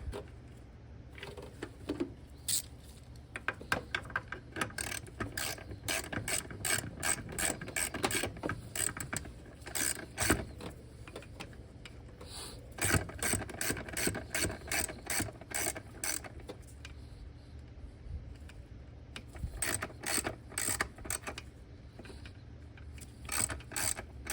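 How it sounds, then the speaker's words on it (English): A ratchet wrench works a 12 mm nut on a third-generation Toyota 4Runner during a brake booster job, making rapid bursts of close clicking separated by short pauses. "we've taken this 12 millimeter nut back off"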